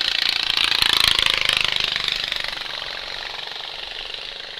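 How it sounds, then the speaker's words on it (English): A racing lawn tractor engine at an outlaw lawn tractor race, heard as a loud, rapid, rattling drone that revs hard and then eases to a steadier, slightly quieter buzz, close by and alone. "You can hear the next class revving themselves up."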